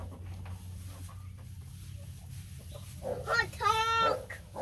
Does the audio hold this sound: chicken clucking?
yes